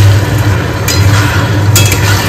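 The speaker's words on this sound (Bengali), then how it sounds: "সবজি রান্না হচ্ছে" Vegetables stirred and cooking in a pan for a home-made biryani dinner, a loud close sizzle with scraping of a utensil against the pan and occasional clinks, no talk.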